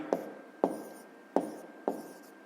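Four short scratchy pen strokes on paper, each a sharp onset fading quickly, spaced about half a second apart, close and quiet with no talking.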